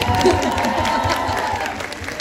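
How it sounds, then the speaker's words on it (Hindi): An audience applauds and cheers at a movie promotion event in India, with a full, continuous burst of clapping that stays loud and then eases slightly toward the end. "जोरदार तालियां तभी हम जाएंगे"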